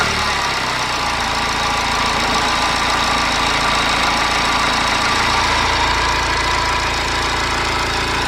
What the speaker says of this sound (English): let's get this engine fired up just to make sure we don't have any issues